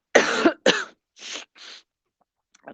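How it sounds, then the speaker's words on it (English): Two sharp coughs followed by two softer throat clearings or snorts during a pranayama breathing exercise, close and alone, then a faint trailing breath. "cough, a snort, a blow"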